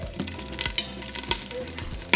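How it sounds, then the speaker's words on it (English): Onion pieces and garlic cloves fry in hot oil for red pozole, with a steady close sizzle and scattered crackles and pops. "we're also going to fry our onion and garlic cloves"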